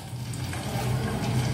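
Hair oil with fenugreek seeds heats on a medium flame, giving a continuous close sizzle and bubbling with a low steady hum under it, fairly loud and without any talking.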